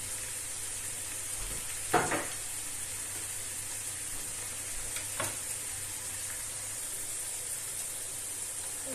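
Steady sizzling hiss of vegetables frying over high heat in a pan, with a couple of brief stirring knocks near the start.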